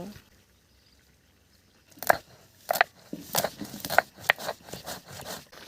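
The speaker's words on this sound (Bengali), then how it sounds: "এখান থেকে কিছুটা গোলমরিচ বেটে নেব" Black peppercorns crushed by hand, a burst of sharp crunching and cracking strokes in a close, irregular rhythm after a quiet start, the kind of pounding used for a country chicken curry.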